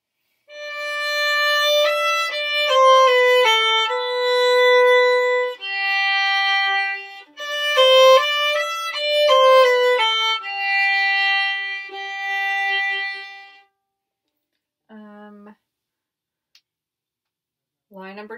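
A violin plays the first line of a beginner method practice piece, a clear melodic run of sustained bowed notes with brief pauses, close and moderately loud, ending in a few short isolated notes.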